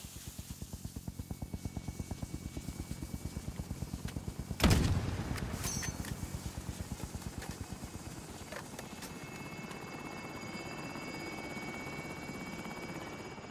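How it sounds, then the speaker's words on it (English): Helicopter from the cash deposit in Call of Duty Warzone, heard as a steady rapid rotor chop throughout, with a loud whooshing burst midway as it lifts off, then continuing rotor thrum as it departs. "Helicopter is away."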